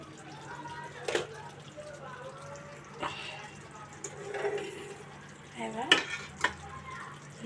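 Doi potol, pointed gourd cooked in yogurt, is stirred in a pan with a handful of soft, intermittent scraping and wet stirring strokes against a quiet background, with a person speaking between them.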